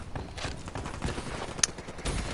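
Rapid bursts of Black Ops 3 gunfire crackle at moderate volume, with clustered shots and a brief louder crack among them, set against a busy game background.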